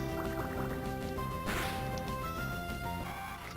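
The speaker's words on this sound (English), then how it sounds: "Water Gun." Mudkip's Water Gun attack in Pokemon Emerald, a brief splashy burst of liquid rushing over looping game music, with a crash near the middle and dripping tones fading out.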